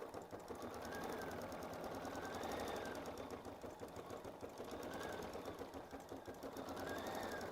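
An embroidery machine sews a second tack-down safety stitch line, giving a quiet, steady rhythmic whir and needle patter that carries on without pause, faint and close.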